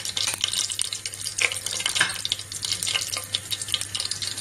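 Mustard and cumin seeds sizzle in hot oil, giving a steady crackling fry with scattered sharp pops and spatters close by.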